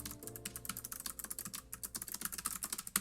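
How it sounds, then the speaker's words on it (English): Rapid, uneven clicking of a computer keyboard, with keystrokes tapping close and fairly quiet in quick bursts and no voices. "Oh, I'm bad at typing."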